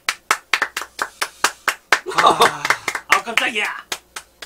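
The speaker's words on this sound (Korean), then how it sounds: "이열 박수" Hand clapping during a casual tart-tasting session: sharp, evenly paced claps repeated many times, close and loud, pausing briefly while a person exclaims and laughs before the clapping resumes.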